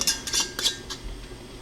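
A metal lid set onto a glass canning jar and a screw ring placed on top, giving a few quick, light metallic clinks and taps close by, then quiet.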